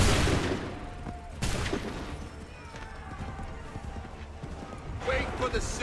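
Musket volley in Assassin's Creed III, sharp bursts of gunfire crackling amid shouted commands and clattering hooves, with a loud crash near the start and another near the end.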